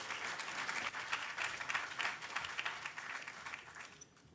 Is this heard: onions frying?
no